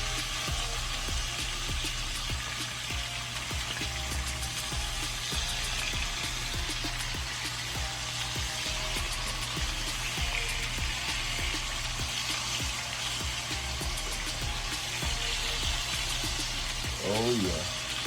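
Fish frying in a pot of hot oil for Caribbean stew fish, heard as a continuous soft sizzle and hiss, close by and fairly quiet, with a brief scrape near the end.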